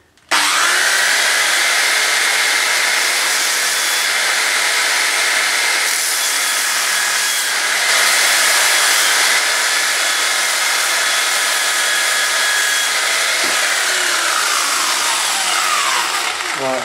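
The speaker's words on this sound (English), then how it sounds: "let's deburr it" A power tool deburrs freshly drilled 16 mm holes in a Triumph Scrambler motorcycle heat shield, whining loudly and steadily at close range for the whole stretch with slight changes in pitch.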